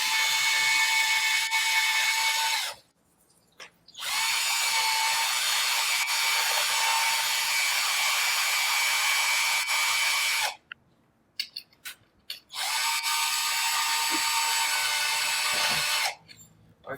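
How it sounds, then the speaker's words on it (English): Drill with a 2mm solid carbide bit boring holes through floor tile grout, high-pitched whining runs in three long bursts separated by pauses and small clicks, close and loud, no talk. "Now I'll just drill a few holes through here."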